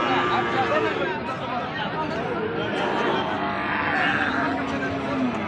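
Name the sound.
beef bulls and calves at a cattle market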